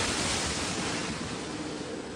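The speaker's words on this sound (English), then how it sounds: "The crew struggles against gusting winds and high seas" Gusting wind and high seas batter a fishing boat at sea, with a loud, continuous roar of wind and crashing surf filling the whole stretch, no voices.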